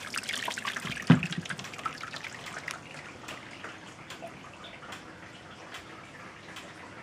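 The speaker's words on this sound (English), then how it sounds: "So, sparging with my new hot liquor tank." Hot water trickles and splashes from a hot liquor tank while sparging the mash for a Maris Otter pale ale, a soft, steady, close stream with a brief louder splash near the start and no voices.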